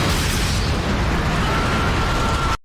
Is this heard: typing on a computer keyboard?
no